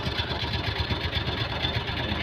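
A Suzuki F6A Multicab engine idles after a top overhaul with new valve seals, a steady close mechanical chugging that stays loud and even throughout.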